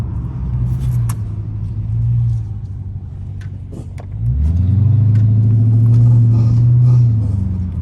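A straight-piped Dodge Charger R/T rumbles loud and close with a deep, throaty exhaust note that swells in two revving surges, heard from inside the car with no talk.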